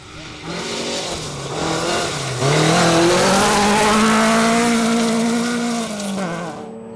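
A Motul VW Polo rally car races past with a loud, rising engine roar that climbs through the revs, peaks close by for several seconds and then eases slightly at the end.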